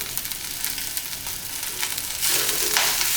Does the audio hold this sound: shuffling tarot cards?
no